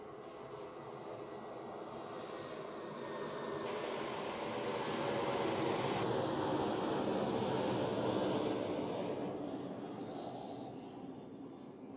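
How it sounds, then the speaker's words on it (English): An Embraer 190 jet airliner at Zurich Airport roars steadily, swelling to a loud peak midway before easing off slightly, a broad continuous engine rumble with no voices. "It's actually an Embraer 190 too, isn't it?"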